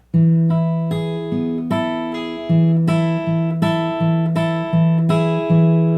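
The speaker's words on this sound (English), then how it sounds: "Now I'm going to play this D phrase here." Acoustic guitar fingerpicking a D-chord phrase, a steady stream of plucked notes over an alternating thumb bass, close and full with no voices.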